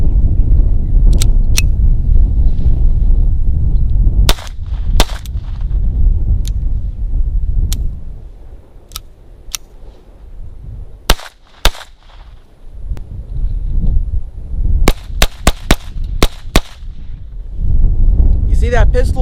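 Star .22 pistol fired outdoors with CCI Quiet-22 or Blazer ammunition, a dozen or so sharp cracks spaced irregularly, some in quick clusters, over a low rumbling background of wind or idling noise.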